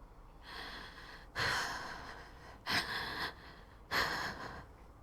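A voice imitates heavy breathing, with three loud, close, rasping breaths in slow succession, each followed by a quieter trailing exhale.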